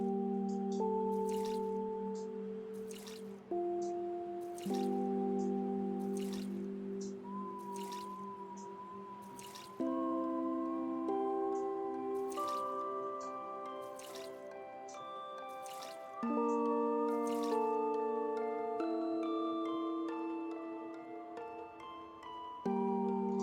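Plants being watered in the video game Omori, a series of soft bubbly drip and trickle effects repeating over gentle background game music, with no one talking.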